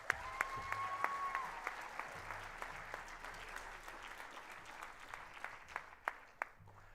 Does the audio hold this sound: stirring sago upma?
no